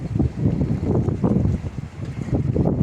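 Steady wind buffets the microphone with a continuous low rumbling roar, gusting unevenly throughout, while fishing outdoors.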